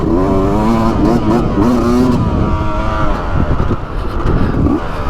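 A Beta 200RR two-stroke dirt bike is ridden on single track, its engine buzzing loudly and close with rising and falling revs as the throttle is worked.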